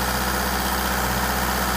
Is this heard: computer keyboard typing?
no